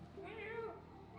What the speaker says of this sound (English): Of course, Hulk the cat likes it